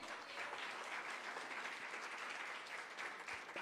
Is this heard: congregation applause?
yes